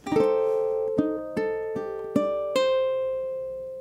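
Plucked ukulele notes picked one at a time in a slow, even pattern, each ringing out clearly and decaying, played close and alone.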